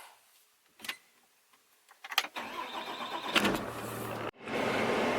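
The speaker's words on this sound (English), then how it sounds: "So I guess at this point now, we would just start the truck" A 4th gen Cummins diesel pickup truck starts up: a few faint clicks and a brief crank, then the engine catches and settles into a steady idle, briefly cutting out before resuming its close, even rumble.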